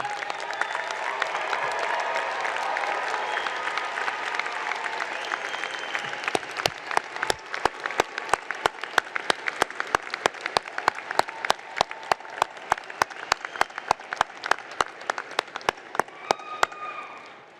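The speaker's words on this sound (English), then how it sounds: "So please stand and give them a round of applause and thank them" A graduation commencement audience gives a standing round of applause, a dense wash of clapping that settles into steady rhythmic, unison claps before fading out.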